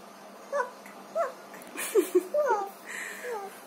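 A voice imitates a small dog with a series of short yips and whimpering barks, irregularly spaced, close by.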